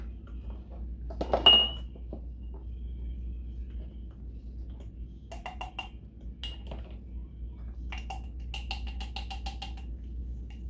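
A measuring spoon presses crust into glass canning jars. Faint clinks and scrapes of metal on glass come in small clusters over a quiet, low room hum.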